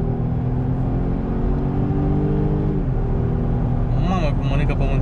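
A Volvo S90 electric saloon on kickdown from about 80 km/h gives a rising whine of motor and road noise that shifts pitch partway through, then climbs again in short chirping sweeps.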